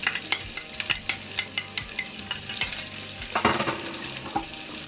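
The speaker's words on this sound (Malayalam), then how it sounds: "ഞാൻ ഇതിനകത്തേക്ക് ഒരു 4 സവാള നീളത്തിൽ അരിഞ്ഞതാണ് ഇത് ചേർത്ത് കൊടുക്കുക." Sliced onions hitting a hot pan of frying ginger and garlic, with a steady sizzle and quick rhythmic spoon scrapes and clinks close by, followed by a louder burst of frying.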